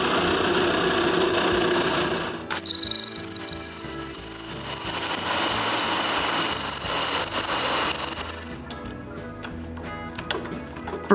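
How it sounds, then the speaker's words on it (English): A drill bores a hole for a nut in wood, a steady loud whir that rises in pitch partway through and whines as the bit cuts, continuing for about ten seconds with no voices. "I make another drilling guide and drill a hole for the nut"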